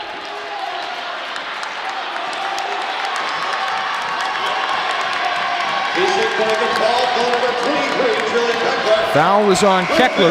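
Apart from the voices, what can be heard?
fans applauding after a foul at a women's basketball game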